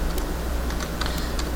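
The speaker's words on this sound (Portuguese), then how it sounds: "Agora eu estou digitando isso tudo aqui." Steady, close-up typing on a computer keyboard during a coding lesson in R, a fast run of light clicking keystrokes over a constant low hum, with no voices.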